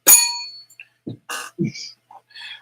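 A small bell is struck once with a bright metallic ring that fades quickly, followed by scattered faint clinks and brief low bumps.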